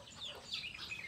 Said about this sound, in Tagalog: mga manok ko, mga native